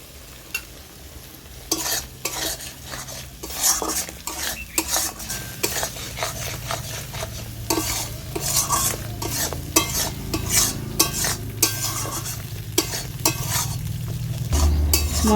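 Egg korma masala stirred in a pan: frequent loud scrapes and clinks of a spoon against metal over a steady sizzle, growing busier toward the end, no talking.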